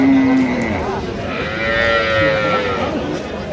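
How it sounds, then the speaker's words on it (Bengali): Cow lowing at a busy rural cattle market in Dinajpur, where dairy cows and calves are sold: one long, drawn-out moo sounds close and clear over a steady crowd murmur, with a second bovine call rising partway through. "গাভী বাছুর আমরা দেখছিলাম এখানে,"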